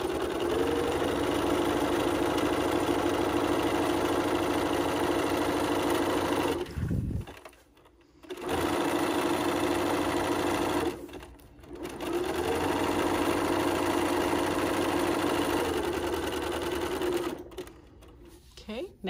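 A sewing machine runs steadily, stitching fabric panels together for a quilted storage box, with two brief pauses where the needle stops before starting again; the motor hum stays close and fairly loud.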